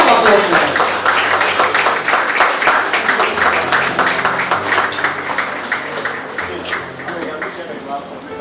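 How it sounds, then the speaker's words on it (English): Audience clapping at an awards dinner, a rhythmic, steady stream of claps that slowly fades, with soft background music underneath. "A round of applause."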